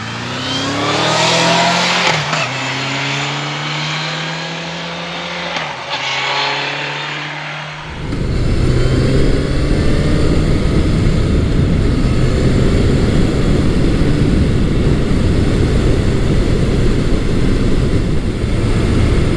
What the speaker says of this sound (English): I'm currently riding Honda's 1992 CB750 Nighthawk